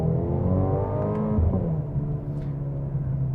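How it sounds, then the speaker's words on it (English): Mercedes-AMG GLB35 with a single turbo, engine note rising as it accelerates, a steady loud rumbling drone with a revving swell, heard alone without talk. "The exhaust note is fun, I'll put it that way."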